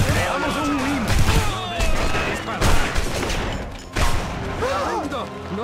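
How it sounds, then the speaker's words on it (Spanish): Bursts of gunfire in The Punisher video game crackle in quick volleys amid loud chaotic effects, with a voice shouting briefly between shots. "¿qué eran esos disparos?"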